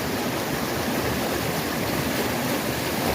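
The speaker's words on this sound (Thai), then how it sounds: "ได้ยินเสียงน้ำตก" A steady, dense roar of falling water, constant and broadband with no pauses, like standing near a waterfall.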